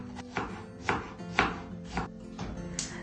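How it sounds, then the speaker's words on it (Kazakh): An onion is chopped very finely with a knife, five or six distinct crisp chops on a board at an unhurried, fairly even pace, close and quiet with no talking. "Алдымен пиязды өте майда етіп турап аламыз."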